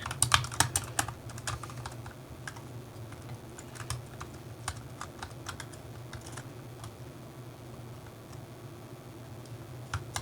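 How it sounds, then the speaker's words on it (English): Keys clatter on a computer keyboard as a message is typed, a steady run of quick, close clicks with small bursts and brief pauses, fairly quiet, with no one talking. "I'll type it out in chat for you"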